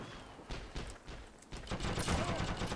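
MG42 machine gun fire in a first-person shooter video game, a series of quick close bursts and single shots growing denser and louder toward the end.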